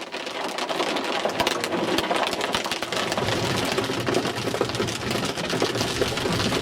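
Hail pounding down during a storm, a dense, loud, continuous clatter of impacts with no let-up.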